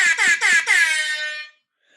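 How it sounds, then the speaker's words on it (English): Rap-style air horn sound effect blasting alone: three short stuttered honks followed by a longer sustained blare that cuts off abruptly into silence. "That deserves another rap air horn."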